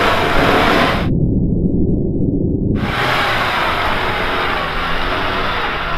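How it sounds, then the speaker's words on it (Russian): A Chevrolet Niva on mud tyres, without locking differentials, climbing a steep high hill in low range, heard as a loud, steady roar of engine and wind that briefly dulls before returning. "Итак, у нас на старте Chevrolet Niva на МТ-резине, без блокировок."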